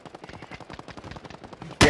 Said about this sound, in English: Oh, I'm getting shot from behind again!